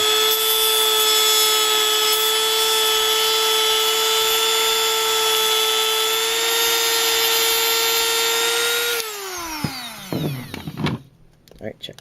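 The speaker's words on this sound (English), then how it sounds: "just like as with anything you Dremel, you're gonna get these little plastic bits" A Dremel rotary tool cuts plastic during a 1:32 scale RC car build. Its loud, steady high whine runs for about nine seconds, then spins down and fades, leaving a few faint clicks and knocks.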